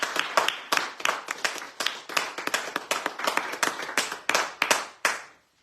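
Hands clapping at a radio bistro event, a small close group applauding in bursts of sharp claps that fade out at the end.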